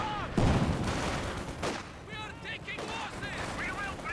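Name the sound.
B4 howitzer artillery barrage in video game Company of Heroes 2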